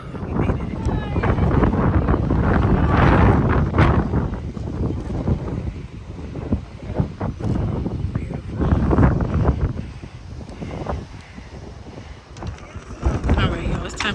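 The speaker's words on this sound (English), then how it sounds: "It's so windy up here." Strong gusting wind buffets the microphone on a hilltop in Puerto Rico, a loud, continuous roar that surges and eases, with faint talk now and then underneath.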